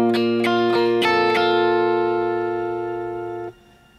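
Electric guitar plays the verse melody of a song through effects, with quick repeated plucked notes in even eighth-note rhythm that ring out and sustain before cutting off, heard alone.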